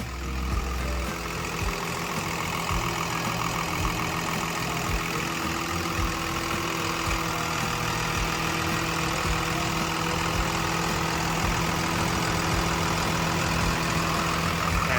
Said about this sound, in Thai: เจ้าตัวนี้นะครับก็จะเป็นเครื่องยนต์รุ่นใหม่นะครับ